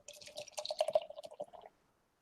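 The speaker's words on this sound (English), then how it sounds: "I'm pouring it into the glass." Liquid splashing and trickling as a dark IPA pours into a glass, a close, bubbling stream of gurgles lasting over a second before stopping abruptly into silence.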